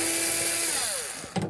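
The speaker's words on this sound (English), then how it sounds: "Just undo this nut." A power tool whirs briefly, loud and close, pitch sliding down as it spins a nut loose on the heating element of an Electrolux washing machine, ending with a short clunk.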